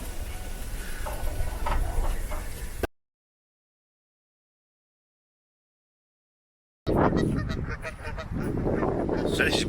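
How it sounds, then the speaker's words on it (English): Geese honk repeatedly at a lake in a caravan touring park in Clacton, loud and fairly near against outdoor background noise, broken by a silent gap before the honking resumes. "There's a few geese there."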